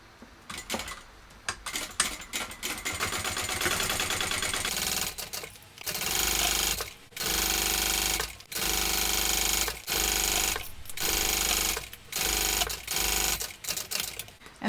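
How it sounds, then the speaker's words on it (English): A sewing machine stitches a vinyl convertible tote with a long stitch length close to the edge. Light rattling comes first, then several loud bursts of fast stitching separated by short pauses. "my first row of stitching, I'm doing an 1/8 of an inch from this open edge"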